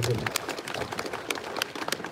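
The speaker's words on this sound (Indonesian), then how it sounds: "Kita beri tepuk tangan buat semuanya" Crowd applause at an inauguration ceremony for the Kampung Susun Akuarium housing in Penjaringan, with scattered, uneven claps rising and falling over about two seconds beneath a noisy open-air background.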